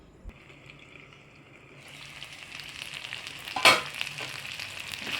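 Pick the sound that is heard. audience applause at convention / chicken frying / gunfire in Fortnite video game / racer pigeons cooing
chicken frying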